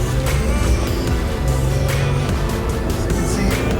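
A Magnuson-supercharged third-generation Toyota Tacoma accelerates hard on a highway at part throttle, its engine note loud and continuous from inside the cab, with a rising drone and road noise throughout.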